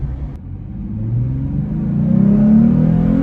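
A Jeep Gladiator pickup accelerates on a short speed run, its engine note rising steadily in pitch and loudness as it pulls through the gear, heard from inside the cab with a low rumble underneath.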